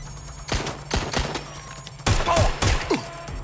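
Gunfire in the video game Watch Dogs: Legion, a few sharp, loud shots scattered unevenly over a steady background hum, with two heavier blasts close together near the end.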